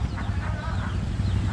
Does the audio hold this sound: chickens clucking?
yes